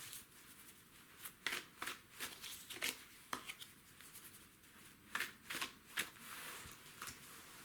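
Tarot cards from a Legacy Tarot deck being shuffled close by in irregular bursts of crisp riffling and slapping, with short quiet gaps between handfuls.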